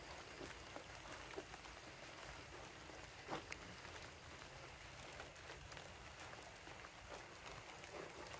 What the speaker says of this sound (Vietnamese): Mưa lớn rồi cả nhà